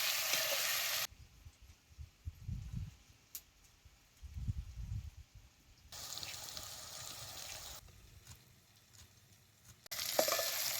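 Green chillies, tomato and egg mixture fry in oil in a village kitchen. Loud bursts of hissing sizzle alternate with quieter stretches of soft stirring and scraping in the pan.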